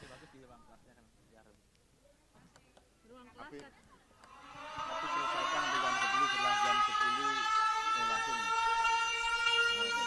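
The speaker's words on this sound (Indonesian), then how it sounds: "Kalau misalnya ada sirine gimana ya?" Loud wailing siren during a disaster preparedness drill rises in after a few seconds of quiet conversation and holds steady, a rising and falling tone with rich harmonics dominating the rest of the clip.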